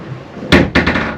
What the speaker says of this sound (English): I'll open the door so you can hear